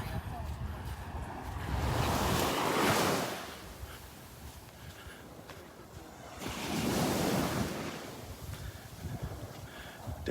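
Ocean surf rolls in at the south end of Vanderbilt Beach in the morning, with two swelling wave washes rising and fading against steady wind noise on the microphone.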